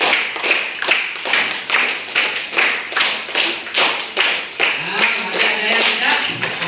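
A class of children clapping together in a rhythmic tepuk pattern, repeated sharp group claps in short bursts, loud and near, with a faint voice toward the end.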